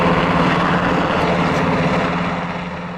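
A Coast Guard rescue helicopter heard near a harbor, a loud, steady rotor and engine roar that holds through the moment and eases slightly toward the end.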